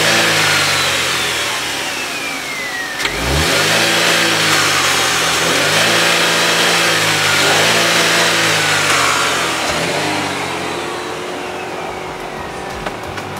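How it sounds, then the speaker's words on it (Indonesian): Chevrolet Spin Activ engine revs repeatedly with a deep, low-toned roar, rising and falling through several strong pulls, loud and close with no talking. "Kejutannya ada pada suara mesinnya yang meraung di nada low tone"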